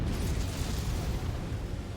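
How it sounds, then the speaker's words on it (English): Ammo explosion of a destroyed mech in MechWarrior 5: Mercenaries, a sustained low, rumbling blast with crackling debris lasting about two seconds at steady loudness, with no talk over it. "explosion detected. Ammo explosion"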